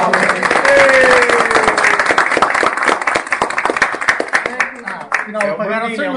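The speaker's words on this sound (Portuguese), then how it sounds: "uma salva de palmas" A crowd at an association's first anniversary party in Poceirão gives loud, rapid clapping that rings out close by, then tapers off as voices and singing take over near the end.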